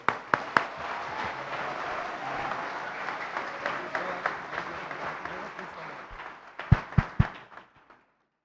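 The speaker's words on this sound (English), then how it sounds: "with a thunderous applause, let's invite Gurudev Sri Sri Ravi Shankar to address us" Audience applause welcoming a speaker at a sports ethics and leadership summit, a broad, sustained wash of many clapping hands that fades out, with a few sharper individual claps near the end.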